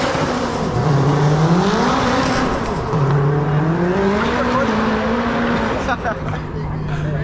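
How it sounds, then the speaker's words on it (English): A loud Dodge SRT Hellcat engine revs hard while tires spin and squeal in a steady, wavering whine, close by and continuous. "Bro, you heard the tires spin."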